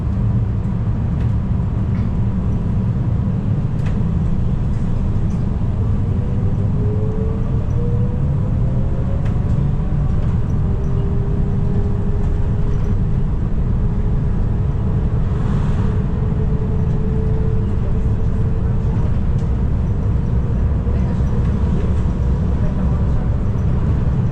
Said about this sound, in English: The train is approaching College North Station.